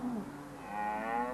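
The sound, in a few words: dairy cows mooing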